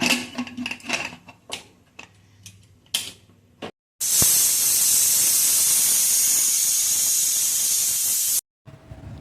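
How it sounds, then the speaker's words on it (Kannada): Clatter and bumps come first, then a loud, sustained steam hiss blasts for about four seconds before cutting off abruptly, a pressure cooker whistling while cooking tomato rice. "cooker ಮುಚ್ಚಿಟ್ಕೊಂಡು 3 whistle ಹೊಡಿಸ್ಕೊತೀನಿ"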